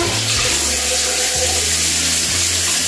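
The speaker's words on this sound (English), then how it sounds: "wash my hands now." Water runs steadily from a tap into a sink while hands are washed, a continuous close splashing flow with slight shifts in tone as the hands move under the stream.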